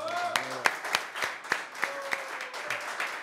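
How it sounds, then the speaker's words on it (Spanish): Applause from an audience at a live music session breaks out in scattered claps, with sharp individual hand claps standing out over a thinner background of clapping and some voices. "Un aplauso muy grande."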